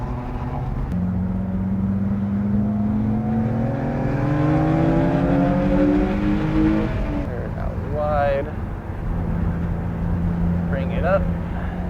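Onboard engine of a track-day car at Sonoma Raceway, droning steadily and climbing in pitch as it accelerates, then easing off under braking before pulling again, with the driver's voice over it.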